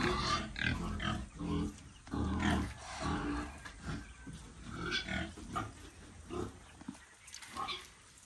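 Pigs grunting at feeding time, fed a mash of maize flour and bran on a small farm, the close snorts and grunts overlapping in irregular bursts throughout.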